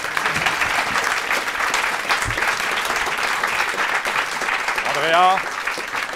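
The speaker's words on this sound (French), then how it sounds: "la tradition veut qu'on applaudisse" A crowd claps steadily and fairly loudly for several seconds, with a brief whistle-like tone near the end.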